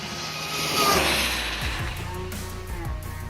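Electric RC car with a 120A speed controller running at full throttle, a loud rising whine surging past then fading into a steady high-pitched drone, close and continuous, no talking.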